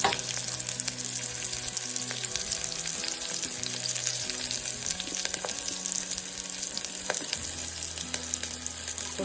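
Onions frying in a pan for a homemade mutton curry, a steady close sizzle with occasional stirring scrapes and clicks, running continuously without talk.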